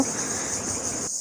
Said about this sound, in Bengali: এর মধ্যে গাছের উপরে যে ঝিঝি পোকার ডাক,